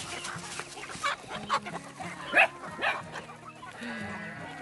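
Chickens clucking and pecking as they eat watermelon rinds in a village yard, with short scattered calls over a busy outdoor background and a brief louder squawk midway.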